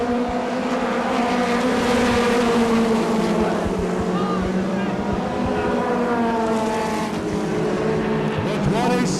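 USAC National Midget race cars roar around a track in Odessa, Missouri, with loud continuous engine drone and passing pitch swells, as an announcer talks over the racing.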